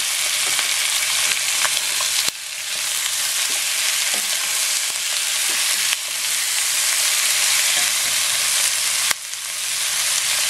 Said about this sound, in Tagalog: i-fry natin ng konti sa cooking oil. Haluin natin.